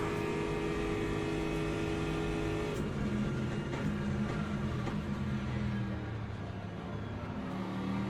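BMW race car in Le Mans Ultimate at Fuji, its engine droning with a steady harmonic whine that shifts pitch midway as it passes, then settles into a lower sustained note with other cars faintly around.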